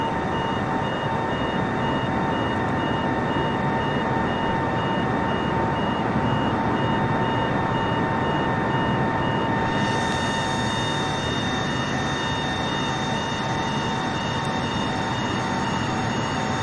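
A Boeing 747-8 in Microsoft Flight Simulator 2024 cruises at high speed, its steady, loud engine roar a continuous broadband drone with sustained whining tones, no voices over it.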